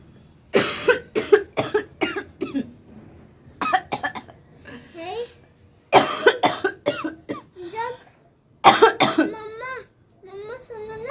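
Repeated coughing bursts from a woman at home, coming in short clustered fits, with a voice speaking and imitating coughs in between.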